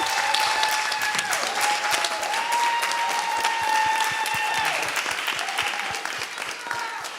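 An audience at a celebration event bursts into sustained applause, dense steady clapping filling the room at full volume and slowly tapering toward the end, with a few faint cheers mixed in.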